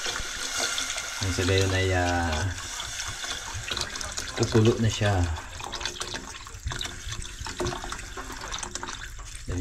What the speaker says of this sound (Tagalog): So, lagyan natin ng tubig. Sabawan na natin.